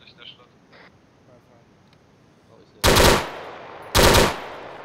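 Gunfire in the military shooter game ArmA 3: two sharp, loud shots about a second apart, each with a trailing echo, following quiet background and faint radio chatter.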